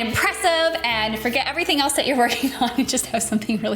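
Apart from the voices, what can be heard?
No distinct noise like a dog, phone or traffic.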